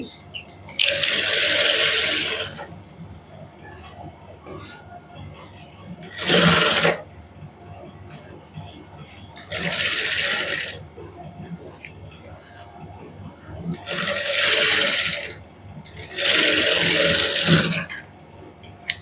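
A sewing machine stitching cloth at a Punjabi boutique runs in five distinct bursts of rapid, even needle clatter, each lasting one to two seconds, with quiet pauses between them and faint background sounds.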